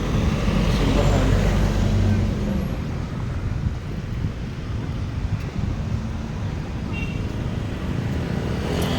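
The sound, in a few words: road traffic in Mactan New Town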